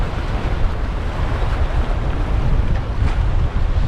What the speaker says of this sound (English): Oh yeah, it's windy, y'all.